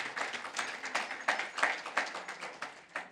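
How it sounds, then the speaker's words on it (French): Steady applause from a conference keynote audience, a dense patter of many hands clapping with small surges, fairly close and continuous throughout. "on peut l'applaudir"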